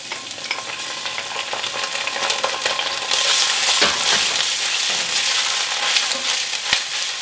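Chopped garlic and ginger fry in a hot pan with a loud, steady sizzle and crackle up close, stirring scrapes breaking through, and the frying growing brighter and more intense partway through.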